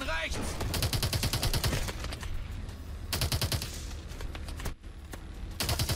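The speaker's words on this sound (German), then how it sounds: "Der Schuss von rechts!" Loud rapid bursts of automatic gunfire in the shooter game Call of Duty Advanced Warfare, firing in several sustained volleys separated by short pauses.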